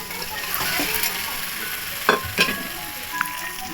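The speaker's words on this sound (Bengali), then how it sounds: "এই সেদ্ধ করা মটনটা এবার এই কষার মধ্যে সবটা ঢেলে দেবো।" Boiled mutton tipped into frying masala for mutton kosha and stirred: a continuous hissing sizzle close by, broken by a couple of sharp utensil clinks against the pan.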